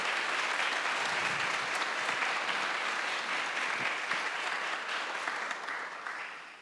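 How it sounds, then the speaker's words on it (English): Audience at a Green Party May Day rally giving a round of applause, continuous dense clapping from a large crowd, steady and moderately loud, fading slightly toward the end with no voices over it. "If we could have a round of applause for the staff and the committee who've helped pull this event together today"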